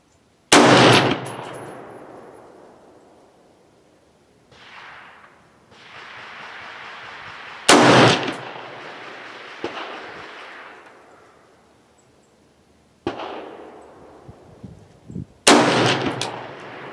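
Gunshots from a firearm set off with old vintage primers outdoors in cold weather: four sharp, loud cracks spaced several seconds apart, each followed by a long decaying echo, with faint clicks and handling noise between shots and no talking.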